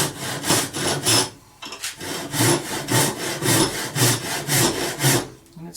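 A hand saw cuts a wooden guitar neck blank clamped at the corner, with steady rhythmic back-and-forth strokes that are close and loud and briefly pause partway through.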